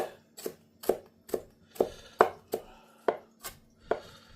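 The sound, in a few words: knife chopping vegetables on a cutting board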